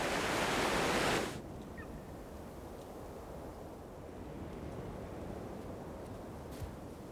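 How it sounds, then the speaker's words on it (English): Alpine meltwater surges during the spring thaw as a steady, dense rushing roar. A louder burst in the first second drops to a constant wash of water noise with no voices. "Higher up, the sound of the trumpets is drowned out by surging meltwater."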